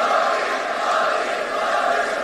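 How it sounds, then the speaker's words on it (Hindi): A large crowd at a Rahul Gandhi event in Pune chants Modi slogans in a steady, loud wall of massed voices that holds through the whole moment. "राहुल गांधी के सामने जब मोदी मोदी के नारे लगने लगे"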